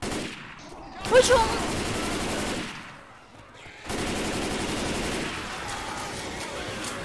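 Bursts of rapid gunfire from the video game Left 4 Dead 2, loud volleys that pause briefly and then resume, with a shouted voice over the shooting.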